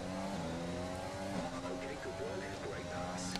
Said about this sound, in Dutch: En kunnen we Max zo inhalen